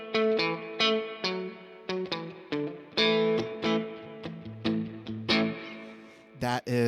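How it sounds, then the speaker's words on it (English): Electric guitar plays a twangy surf rock riff through a Vox amp's spring reverb, with rhythmic picked notes and chords ringing out and a bright splashy decay, heard alone and fairly clear. "That is kind of a classic spring reverb sound in my mind"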